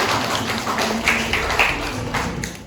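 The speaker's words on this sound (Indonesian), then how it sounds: "Boleh kelompok 5 tepuk tangannya ya" A school group in a classroom claps hands together, a dense, steady patter of many hands that carries on evenly for a few seconds without talking.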